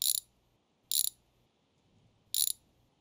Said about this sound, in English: So we're gonna get our spark plug socket. And I'm taking these out.